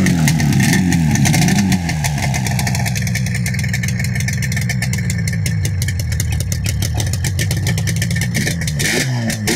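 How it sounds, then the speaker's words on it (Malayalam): A 1983 Yamaha RD 350 two-stroke twin-cylinder motorcycle with dual exhaust idles close by, a steady, loud, bassy burble that holds throughout and lifts briefly in a small rev at the very end. "ട്വിൻ സിലിണ്ടറിൽ നിന്ന് വരുന്ന ഡ്യുവൽ എക്സോസ്റ്റ് എന്ന് വരുന്ന സൗണ്ട് എന്ന് പറയുന്നത് വളരെ പ്രഷറബിൾ ആണ്"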